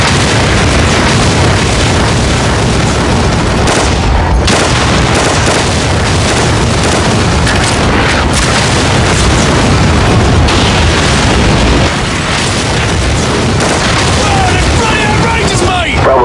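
Danger-close artillery fire mission on enemy armor and infantry in Call of Duty 4: Modern Warfare, with continuous, very loud booming blasts and rumbling explosions under shouted radio talk and voices.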